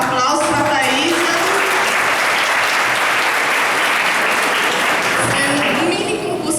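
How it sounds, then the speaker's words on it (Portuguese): Loud applause from a lecture audience at a college talk celebrating Administrator's Day, a dense roar of clapping with voices and cheering mixed in, starting as talk fades and holding strong throughout. "Aplauso para Thaísa."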